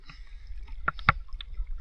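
A few soft paddle strokes and splashes from a small boat at sea, gentle and close, with quiet gurgling between them.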